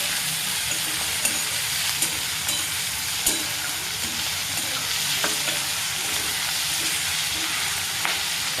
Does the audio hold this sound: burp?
no